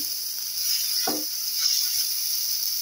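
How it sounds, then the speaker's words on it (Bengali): Two cloves of crushed garlic frying in hot oil with dried red chillies and bay leaves for khichuri, giving a steady, loud sizzle and hiss with a short stirring scrape partway through. "এর মধ্যে আমি 2টো রসুন থেতো করে নিয়েছি। এবারে তেলে দিয়ে দেব।"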